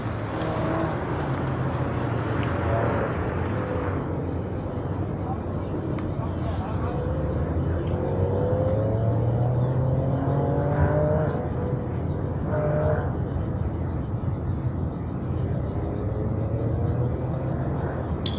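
A 2015 Mazda 3 driving an SCCA autocross course at Auto Club Speedway, engine revving up and down in sweeping changing tones, moderately distant over steady outdoor rumble.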